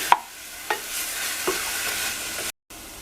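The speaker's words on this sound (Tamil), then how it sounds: "இந்த கேப்சிகம் வந்து வேகமாக வதங்கிடும்." Capsicum sautéing in a pan, a loud, steady sizzle up close with a few distinct stirring scrapes, then a brief silent break before the hiss resumes.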